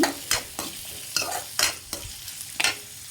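Green chillies and onions are stirred in a hot frying pan, with sizzling under roughly half a dozen distinct scraping strokes of the spoon, close and clear.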